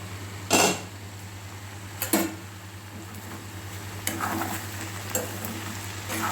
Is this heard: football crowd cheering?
no